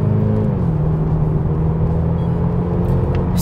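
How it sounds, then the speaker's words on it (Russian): A Kia Stinger launches hard from a standstill with stability control off, its engine roaring loud and steady under full throttle as it pulls away, a continuous close-up drone with no talking. "жмем левой ногой на тормоз, газ в пол, поехали."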